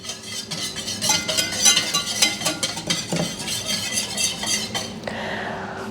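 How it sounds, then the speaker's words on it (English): A whisk beats a carb-free carnivore pizza crust mixture in a bowl, with quick rhythmic metallic clinks and scrapes against the bowl, close and steady, then a softer hiss near the end. "So we are just gonna start by whisking it a little bit."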